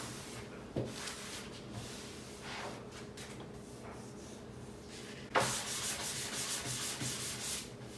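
Wood being sanded by hand with 400 grit sandpaper during a home renovation, a steady close scratchy rubbing that thickens and grows louder partway through, with no talk.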